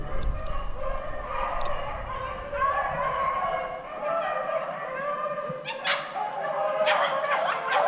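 Hunting hounds bay and yip in a chase after a rabbit outdoors in North Carolina, several dogs crying at a distance in overlapping bursts.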